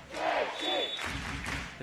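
Spectators at a FIVB 4-star beach volleyball match in Ostrava, a loud, sustained crowd roar and cheering at a tense match point, swelling and holding throughout with a commentator's voice mixed in.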